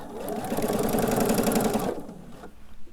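A sewing machine stitches binding onto a quilt in a steady, rapid run of needle strokes up close, loud for about two seconds before stopping, followed by a few faint handling clicks.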